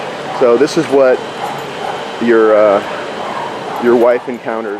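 A dog at a fence line barks and yips at another dog behind the fence, in several short bursts with whimpery, strained tones. A person speaks between the bursts.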